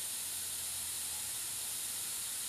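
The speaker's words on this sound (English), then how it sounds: "Now all I'm going to do is I'm going to lightly mist" Spray paint misting lightly from an aerosol can, a steady soft hiss lasting throughout, close and even with no voices.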